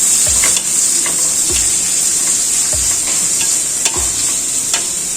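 Onion and tomato sautéing in a pan for a cucumber and cowpea curry, a steady loud sizzle with a spoon scraping and stirring at regular intervals, no voices.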